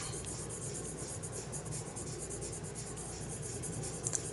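Soft, steady scratching of colored pencils on paper, quiet and close, continuing throughout.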